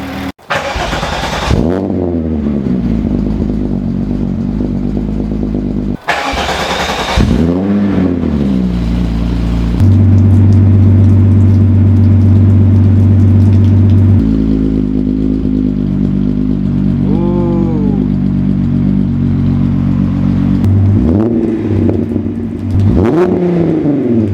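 A car engine fitted with Autotech 262 performance camshafts, with a lumpy, choppy idle, revs up sharply several times, blipping loud and close with pauses between the pulls.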